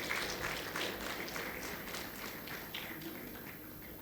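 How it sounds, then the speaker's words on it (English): An audience at a dental sciences conference convocation gives the fellows a round of applause, dense continuous clapping from many hands throughout, fairly close and even in level, with no one speaking. "Can we have a big round of applause for each fellows?"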